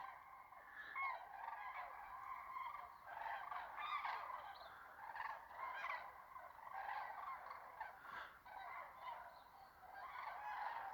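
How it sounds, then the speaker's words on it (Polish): A flock of cranes flying overhead calls continuously in loud, overlapping bugling cries, somewhat distant, with no pauses. "pieski się zainteresowały, bo żurawie lecą"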